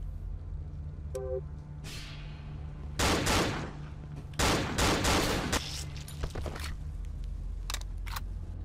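Enemy gunfire in the horror game Cry of Fear: scattered shots and sharp bursts of firing, loudest in two clusters in the middle, with metallic clicks and quieter gaps between them.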